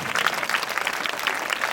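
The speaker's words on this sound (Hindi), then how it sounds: "इनके लिए तालियां बजाइए" Steady applause from an audience at a school annual prize distribution and cultural ceremony, a dense run of claps at even loudness with no pause.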